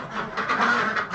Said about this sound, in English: Sorry, ducks, don't mean to scare you.